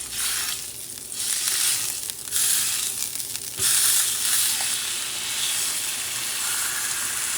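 A very thin beef steak sizzles hard in extra virgin olive oil in a preheated skillet, a loud continuous hiss that surges as the meat settles and then holds steady, with no voices.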